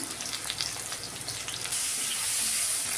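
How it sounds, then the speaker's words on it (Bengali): Fish heads fry in hot oil in a pan, giving a steady, moderately loud crackle and sizzle that swells into a denser hiss partway through, with no voices. "মাথাটা ভেজে নিচ্ছি, মাথা ভেজে নেব"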